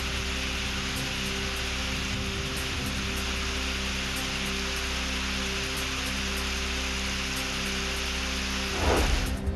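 Sudden unseasonal rain falls in the Raigad area around Karjat, Khopoli and Khalapur, a dense, unbroken hiss over a steady low hum, with a brief louder burst near the end.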